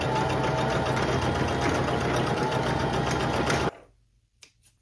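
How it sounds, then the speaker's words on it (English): A standard sewing machine stitches a zigzag stitch, running steadily with a fast, even mechanical whir for a few seconds, then stops abruptly, leaving near silence with a couple of faint clicks. "use a zigzag stitch with my standard sewing machine"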